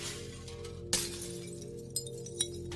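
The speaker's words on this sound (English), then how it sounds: "suddenly you hear glass shattering all around you" Glass shatters in a sudden bright crash, followed by a couple of smaller tinkling breaks, set against a steady low droning hum in an eerie atmosphere.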